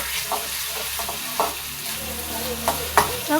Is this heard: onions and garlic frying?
yes